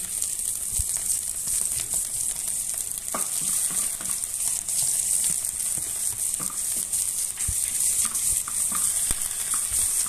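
Onion and garlic fry with pork in a pan, giving a loud, constant sizzling hiss punctuated by occasional clicks and scrapes of stirring.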